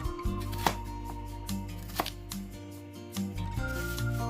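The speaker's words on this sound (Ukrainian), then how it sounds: "Чотири маленькі цибулі також порізати невеликими шматочками" A knife chops four small onions into small pieces on a board, with crisp, evenly spaced taps about twice a second, close and clear with no talking.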